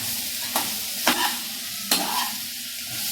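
Chilli chicken stirred in a hot pan over a fairly high flame, a continuous sizzle broken by three distinct scraping strokes of a spoon against the pan, close and clear with no speech.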